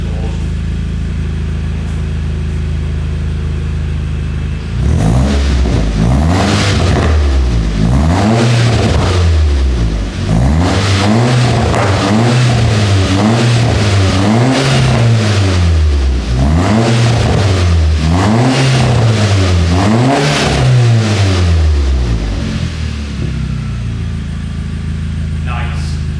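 A Volkswagen Jetta fitted with a new titanium exhaust settles at idle, then roars through a long series of sharp rhythmic revs, each blip rising and falling loudly close by.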